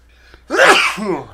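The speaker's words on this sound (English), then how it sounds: "I'm going to sneeze." A single loud, close sneeze set off by dust, a brief intake followed by a sharp burst that trails off over about a second, with no talk.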